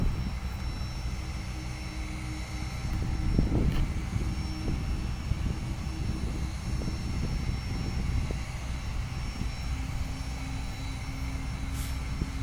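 An airliner rolling down the runway at Richmond International Airport in Virginia, a steady broad engine roar heard from a distance, continuous and fairly loud, with no talking.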